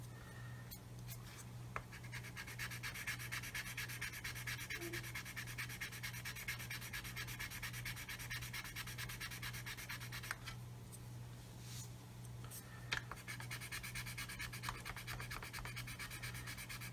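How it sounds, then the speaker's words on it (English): A plastic part of a Meng 1/35 scale 9K37M1 Buk model kit is rubbed with a flat sanding block using light pressure, giving a steady, close, continuous scratchy rasp over a constant low hum. "use the end of the sanding block because I know it's flat, not pushing down"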